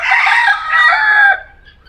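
Red junglefowl cock crowing at a safari park, seen perched up high in an enclosure; one loud, close, drawn-out crow that breaks up and fades near the end, with no talk.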